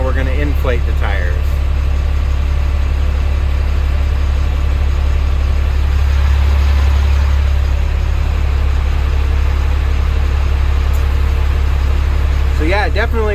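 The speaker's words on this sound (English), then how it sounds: "Now we're going to inflate the tires." An Abel LMTV military truck idles with a deep, steady low rumble while its CTIS inflates the tires, the engine drone constant and close under a man's intermittent speech.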